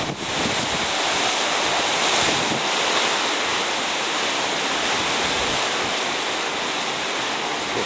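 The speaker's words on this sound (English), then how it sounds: "It's still blowing like crazy out here." Hurricane Wilma's wind roars hard and steadily outdoors, a dense, unbroken rush of gusting air with heavy buffeting on the microphone and no speech.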